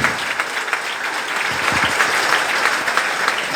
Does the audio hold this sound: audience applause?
yes